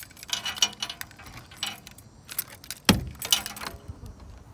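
Car keys jangle in short, close bursts beside a 1963 Ford Galaxie 500 XL as the trunk is opened, with a brief sharper metallic clink midway and no talk.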